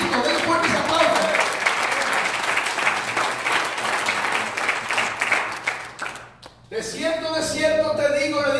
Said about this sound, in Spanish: Den fuertes aplausos